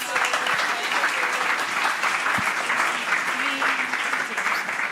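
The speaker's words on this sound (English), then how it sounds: "So round of applause for our guests" Sustained audience applause for invited guests at the close of a conference panel on sustainable development, filling the room steadily and loudly from start to finish with dense clapping.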